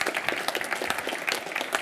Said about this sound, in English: Round of applause to George Freeman.